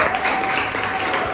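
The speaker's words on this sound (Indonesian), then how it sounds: "Silakan tepuk tangan." A burst of steady, dense applause from a class of students, clapping continuously at moderate loudness throughout.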